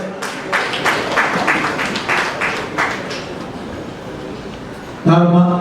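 A crowd claps in applause at a Sandalwood celebrity cricket league event, a steady rolling patter of many hands that thins out before a loud tonal hum cuts in at the end.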